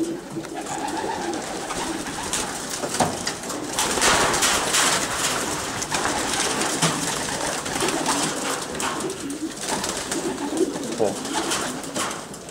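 Pigeons coo steadily inside a stock loft, with spare birds kept in a storage pen at the back, the soft calls layered over a constant busy background murmur.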